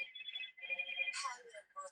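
A mobile phone rings out during an indoor recording, a bright electronic ringtone in repeated warbling bursts, fairly loud and close, with no talking over it.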